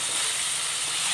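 Elephant foot yam pieces frying in oil, a loud, close, continuous hissing sizzle that holds steady throughout the brief moment.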